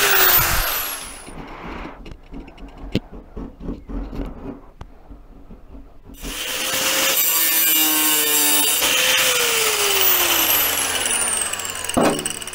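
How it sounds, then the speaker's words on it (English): A grinder cuts a piece out of a car wing panel. The tool winds up and spins down with a high whine, then settles into a loud, steady abrasive grinding that runs for several seconds before tapering off. "then we're going to cut that out with the grinder"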